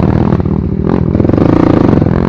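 A Kalex 150 motorcycle engine runs loud and close with a rough, pulsing rumble that rises in pitch, with some clattering mixed in.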